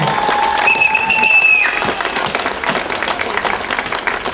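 Audience applause at a televised event, dense clapping from a crowd with a brief tonal whistle or cheer early on, steady and moderately loud throughout.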